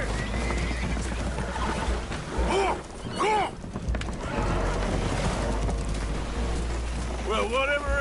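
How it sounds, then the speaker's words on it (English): Spooked horses whinny in Red Dead Redemption 2 aboard a damaged boat taking on water, several shrill rising neighs breaking out at intervals over a constant rumble of water and creaking, with clip-clop stamping beneath. "Horses are spooked, and we're taking on water."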